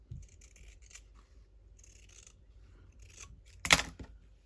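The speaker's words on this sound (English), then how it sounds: "I'm just going to now trim along there." Scissors trimming a piece of checked fabric, with light snipping cuts followed by one louder, sharper snip near the end, close up and quiet, with no voices.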